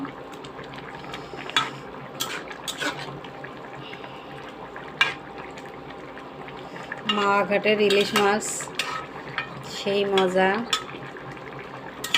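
A utensil stirs a radish and eggplant curry cooked with hilsa fish in a metal pot, giving irregular scrapes and sharp clinks against the sides, with a denser run of clattering near the end. No talking is heard.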